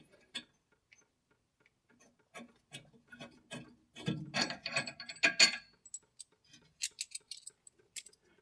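A ratchet wrench clicking as it loosens the rear brake caliper bolts on a Porsche 944, sparse quiet ticks at first building to a busier burst of rapid clicks, then scattered single clicks, close by in a quiet garage.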